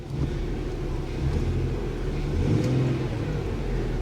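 A 2017 Ford Transit party bus with a V6 engine revs up, a steady mid-range engine roar that swells slightly near the middle, heard close and without talk.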